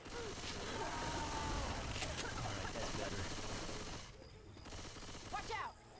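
Continuous gunfire from several players in Left 4 Dead 2 as they fight a tank during the Dark Carnival Remix campaign, with rapid shots and effects under the noise and a brief lull near the end.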